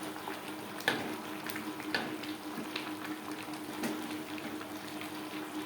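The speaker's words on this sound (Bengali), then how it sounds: "আলুর সাথে মাংস বেশ ভালো করে কষিয়ে নেওয়ার পর দিয়ে দেবো জল।" Water from a rinsed marinade bowl is poured into a pan of chicken and potatoes frying for aloo chicken curry, bringing soft sizzling and bubbling with a few clinks, no talking.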